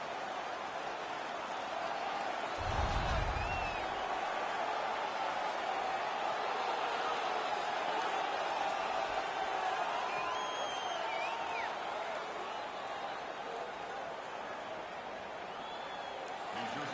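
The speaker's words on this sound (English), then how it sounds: "The home crowd is ecstatic. They're making all kinds of noise." A home hockey crowd roars and cheers steadily in a large arena, a broad sustained wash of noise with a brief low thump early on and a commentator talking over it.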